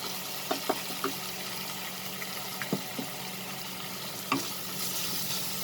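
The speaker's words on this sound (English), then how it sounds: "Saute this also." Onions and dry spices sauté in a pan for ghugni, a soft continuous sizzle with a few quiet scraping stirs and taps of a spoon, fairly faint and with no talking.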